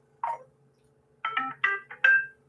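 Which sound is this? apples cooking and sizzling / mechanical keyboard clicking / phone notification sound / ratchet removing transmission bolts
phone notification sound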